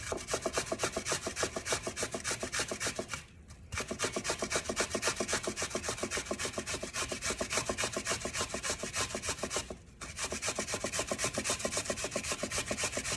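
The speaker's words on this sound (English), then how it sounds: "I will actually grate my cucumber right inside the bowl" A cucumber is grated straight into a bowl with fast, rhythmic rasping strokes, loud and close, continuing steadily with two brief pauses.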